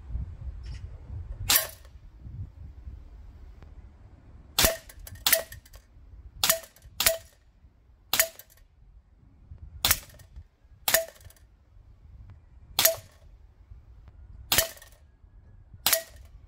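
A Maruyama SCW9K Pro G airsoft sniper rifle fires about a dozen sharp, snappy shots at a 6-inch paper target, each a crisp isolated crack separated by quiet pauses of one to two seconds, with no talking.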